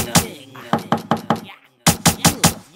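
Sharp door knocks within a song, arriving in two bursts of five or six evenly spaced raps separated by a short pause, loud and close with some vocal-like tone around them.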